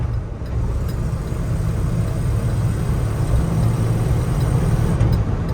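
A 1981 Jeep CJ-7 Laredo with a four-speed gearbox accelerates in second gear, its engine giving a steady, deep rumbling drone heard from inside the vehicle, holding loud and even throughout.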